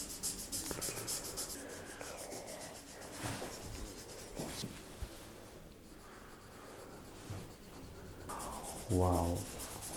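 A child colors a drawing with a crayon, a close, steady scratchy rubbing of wax on paper that continues in short strokes, with a voice briefly heard.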